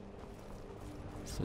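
Horse hooves clip-clop faintly in the Skyrim video game, a quiet, uneven patter beneath a low background wash, with a brief brighter knock near the end.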